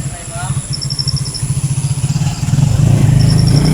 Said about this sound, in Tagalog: Ang daming dumadaan itong motor ngayon.